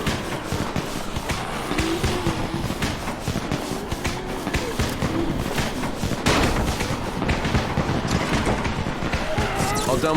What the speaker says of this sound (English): You still have some firecrackers, don't you? Just throw some into the crowd.